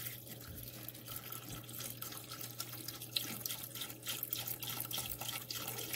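Beef broth, a full 32-ounce carton, poured into a pot of hamburger soup, a steady liquid stream running for several seconds at moderate level with no talking.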